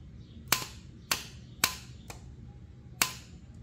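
A John Deere X340 lawn tractor starter solenoid clicking, five sharp, close metallic clicks at uneven intervals, the fourth softer than the others.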